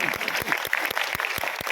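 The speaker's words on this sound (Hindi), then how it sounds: "जोरदार तालियां हो जाए।" Audience applause at an award ceremony in Delhi, a steady wash of many hands clapping close and fairly loud, filling the moment without talk.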